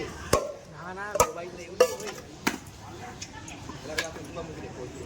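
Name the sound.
breaking a block of ice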